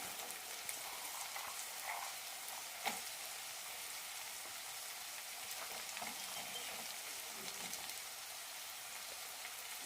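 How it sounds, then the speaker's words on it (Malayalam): Masala roasting in a pan with chilli powder, vegetables, peas and soya chunks gives a faint, even crackling sizzle like light rain, with one soft knock of stirring early on. "മസാല നന്നായി റോസ്റ്റ് ആയിട്ടുണ്ട്"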